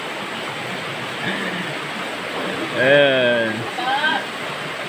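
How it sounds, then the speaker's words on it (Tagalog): A river flows with a steady, broad rush beside a hillside path in Sabang, Pinamalayan, Oriental Mindoro, where durian is being picked. Voices talk over the continuous water noise. "May ilog. Ilog yan."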